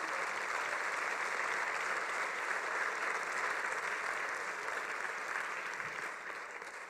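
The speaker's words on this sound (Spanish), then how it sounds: "Y justamente un aplauso para Jesucristo" A church congregation at a cell-group conference plenary in New York applauds steadily, a dense, even wash of many hands clapping that continues without pause and fades slightly at the end.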